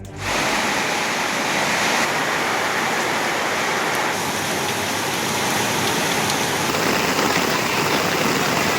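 Heavy rain pouring down in Kariyapatti, Virudhunagar district, a loud dense steady roar of rainfall on surfaces that carries on unbroken throughout.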